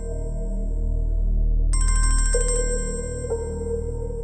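A phone ringtone for an incoming call plays loudly and close, a steady electronic melody with a sharp bright chime burst partway through and a low hum underneath, with no one talking.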